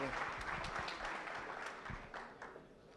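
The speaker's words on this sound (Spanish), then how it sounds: "Recibamos con un gran aplauso, por favor, a Mateo Martínez." An audience at a security conference gives a speaker quiet, fairly distant applause, a dense patter of many hands that gradually thins, with some murmured voices underneath.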